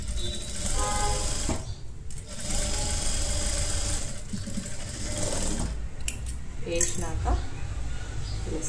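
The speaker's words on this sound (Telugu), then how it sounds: "కుట్టుకున్నాక ఓపెన్ చేసి ఇక్కడ ఫ్లాట్ స్టిచ్ చేసుకోవాలి." A sewing machine flat-stitches the opened seam of a halter neck blouse, running loud and steady with a busy mechanical whir and brief pauses near the two-second mark and again later.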